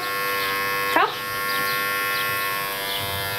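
An electric razor shaves a red dog's fur before an ultrasound exam, with a steady close buzzing drone throughout and a brief sharp whine partway through.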